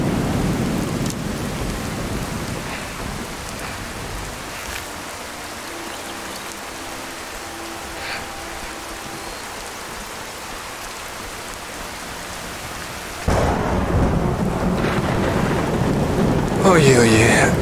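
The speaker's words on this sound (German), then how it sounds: "Blitzt und donnert." A thunderstorm with rain in Skyrim VR gives a constant hiss of rainfall with rolling thunder, then a louder, brighter surge of storm noise near the end, with no one speaking.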